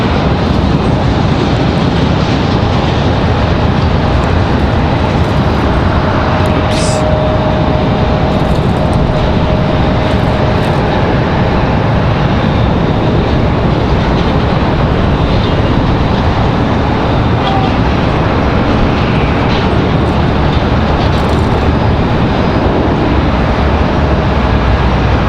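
An Aeromexico Embraer E190 jet landing at Raleigh-Durham airport produces a long, steady, loud roar that continues evenly for the whole stretch with no speech over it.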